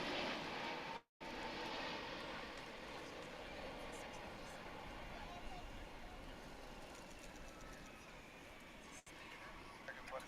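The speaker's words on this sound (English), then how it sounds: "Dreamliner making its way to Runway" Turkish Airlines Boeing 787 Dreamliner taxiing toward the runway at DFW airport, a steady broad engine roar heard at a distance, with people talking over it throughout.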